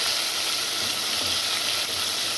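Chopped tomatoes fry with onions in a pan, a loud, dense, continuous sizzle close by that holds steady without pause, no voices.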